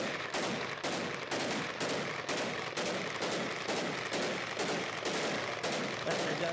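Celebratory gunfire in Samawah, Iraq: dense, loud bursts of shots crackle continuously, overlapping volleys with no pause and no talk.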